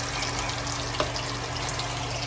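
Water runs steadily from a household tap into a sink or container, a continuous broadband rush with no talk over it.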